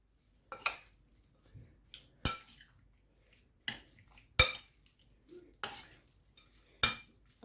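Pork marinade being mixed in a bowl for grilled souvlaki: about six sharp spoon-on-bowl clinks spaced roughly a second apart, each trailing into softer scraping and stirring, close and otherwise quiet, with no speech.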